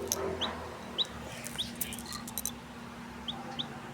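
Young pet chicks chirp indoors at home, with repeated short, high peeps spaced through the clip against a steady low background hum, fairly faint and with no talking.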